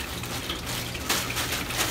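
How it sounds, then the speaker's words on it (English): Water from a garden hose gushes into a bucket of crushed coral beside a pond, a steady close hiss and splash with a brief surge partway through. "So I'm just rinsing off the crushed coral."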